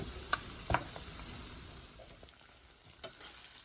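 Meat and okra frying in a pot with onion, garlic and tomato paste, a low steady sizzle broken by a few sharp stirring scrapes near the start and again toward the end, with no voices.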